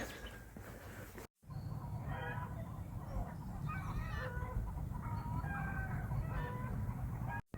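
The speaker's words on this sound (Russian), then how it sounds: "петухи поют" Several birds call over a steady outdoor rumble in a Normandy village, with repeated rooster crows and clucking from different distances, broken by a brief silent gap.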